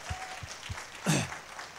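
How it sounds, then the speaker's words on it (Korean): Applause for Shin Hyun-bin, the narrator and synthesizer player, during a Christmas church service, a soft broadband patter heard from a distance, with a brief voice cutting in partway through. "신현빈에게 박수를."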